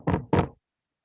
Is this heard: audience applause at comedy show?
no